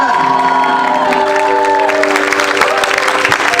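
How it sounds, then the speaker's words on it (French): Church congregation at a youth conference breaks into loud applause and cheering for a pastor, steady clapping with shouts and whoops, dense and close for the whole stretch. "plus d'acclamation pour mon roi"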